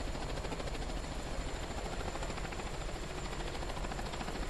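A helicopter engine in Microsoft Flight Simulator whines and thrums in a loud, continuous drone, with the rotor beating out a fast, even pulse.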